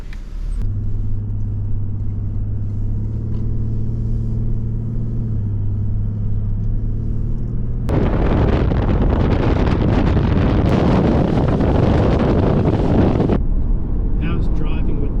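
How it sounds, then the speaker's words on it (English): Car towing a caravan: a steady engine hum and low rumble for the first half, then a loud broadband road and wind roar from about eight seconds, easing near the end. "car's travelling really well, pulling it well"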